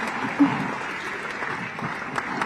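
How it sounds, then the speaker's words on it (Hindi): A hall audience applauds steadily at a Bhopal ceremony honouring Madhya Pradesh Class 12 toppers, a dense, even patter at moderate level with faint voices mixed in. "आपकी तालियां बजती रहना चाहिए"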